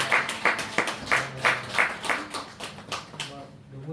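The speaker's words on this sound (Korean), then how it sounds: "우리 박수로 환영합시다" A church congregation at a morning worship service welcomes visiting family with rhythmic group clapping, a steady beat of roughly three claps per second that thins out and fades near the end, with a voice faintly underneath.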